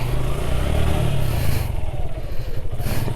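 A motorcycle bogged in thick mud, its engine droning low and steady while the rear wheel spins without grip, giving a continuous churning rumble up close with no talking.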